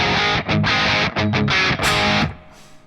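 Electric guitar fitted with EMG pickups, strummed hard through heavy distortion: a few loud, choppy chord hits with brief gaps, ending in a sharp stop and fading ring.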